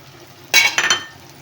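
A spoon stirs red chili powder, turmeric and salt into softened tomatoes in a cooking pan for a masala bhindi dish, making a short, close scraping rustle of two quick strokes that fades fast.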